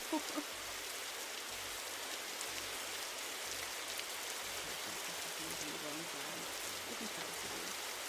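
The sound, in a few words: rain in a video game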